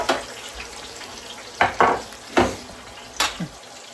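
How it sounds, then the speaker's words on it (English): Chicken sizzles in a hot frying pan in bursts, several sharp crackling flare-ups over a soft steady hiss, close by with no talking. "Let's start getting this chicken in here. You hear that sizzle?"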